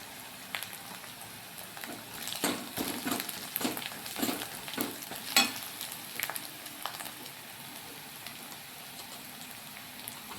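Chilli thecha with turmeric powder frying in a pan gives a soft, continuous sizzle broken by scattered crackles and spits, busiest in the middle and quieter toward the end.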